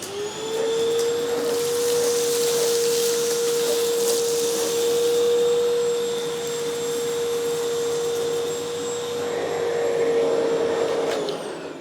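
AmazonBasics vacuum cleaner running steadily as it sucks up crackers and rice, a loud continuous whine with a strong tonal hum and rushing airflow, swelling slightly as it moves, with no talking.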